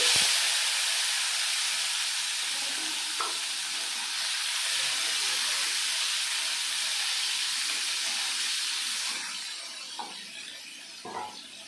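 Chopped tomatoes fry in a pan with a steady, loud hissing sizzle that holds for several seconds, punctuated by a few faint stirring knocks, close and without any talking.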